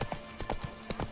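Hooves clip-clop in a quick, steady galloping rhythm as a horse runs in The Witcher 3 video game, close and clear, with about eight distinct beats.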